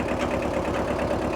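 A 1974 Kubota tractor's engine idles steadily and close by after an easy start, a continuous mid-to-low rumble with a faint rhythmic chug and no voices over it.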